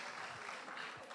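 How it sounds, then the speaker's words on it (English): Brief, steady applause from a reunion gathering of IIT Madras 1973 alumni at a beach resort, a quiet, even patter of clapping filling the moment without a break. "so I think she deserves a special applause."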